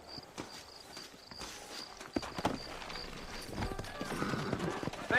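Horse hooves clip-clop at a steady walking pace in the Red Dead Redemption video game, faint and close, over quiet town ambience.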